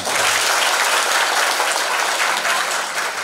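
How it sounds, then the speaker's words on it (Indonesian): Loud, steady applause fills the room from a seminar audience of teachers at Darussalam Gontor, a dense wash of clapping that holds without pause throughout. "Tepuk tangan untuk kita semua"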